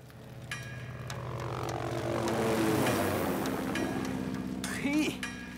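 Flying Tigers warplanes pass overhead in a wartime drama, a propeller engine drone that swells to a loud peak and then recedes, with music and voices mixed in.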